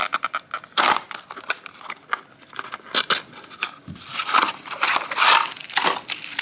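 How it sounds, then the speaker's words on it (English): A Sonic toy, a Tails blue roller, being unboxed: repeated close crinkling, crushing and tearing of cardboard and plastic packaging in irregular bursts, with no talk. "Number 6 is going to be the Tails blue roller, which I'm just going to unbox and apply the stickers"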